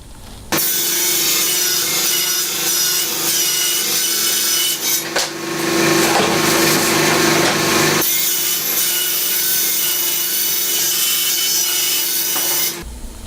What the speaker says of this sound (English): I'm going to rip a bunch of 3-inch pieces to make my frame